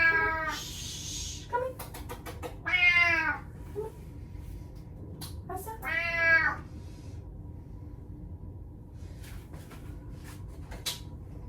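A house cat meows several times, clear and fairly close, in distinct drawn-out calls spaced across a quiet indoor room with a faint steady hum and no talking.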